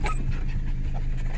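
Pinscher dogs pant rapidly and steadily up close, with a brief high whine at the start and constant low background hum.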